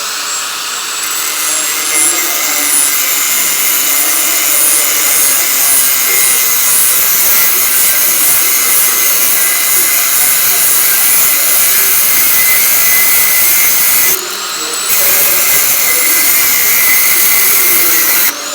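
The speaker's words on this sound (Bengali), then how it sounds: "আমি এই এগারোশো বিশ টাকার গ্যান্ডিং মেশিনটা দিয়ে আপনাদেরকে কেটে দেখাবো" A small angle grinder cuts stainless steel with a loud, high-pitched, steady whine. The whine drops briefly near the end and then resumes.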